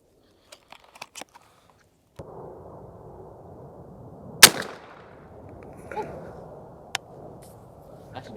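A Winchester SX4 shotgun fitted with an Undertaker choke fires one Longbeard XR 3-inch 6-shot load at a pattern target 30 yards away, giving a single sharp, loud report in the middle of the clip over steady outdoor background noise, with a few faint clicks before it.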